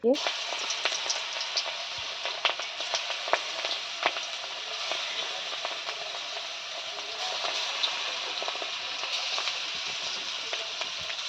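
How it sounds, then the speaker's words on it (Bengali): Bora fritters frying for iftar make a dense, continuous sizzle and crackle in hot oil, close and steady, with scattered sharper pops throughout and faint voices in the background. "এখানে বড়া ভেজে নিলাম সবার আগে"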